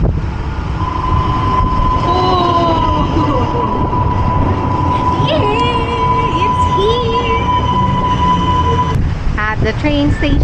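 A train runs through a station in Petah Tikva, Israel, with a loud continuous rumble, a steady tonal whine and squealing wheels, the noise holding throughout.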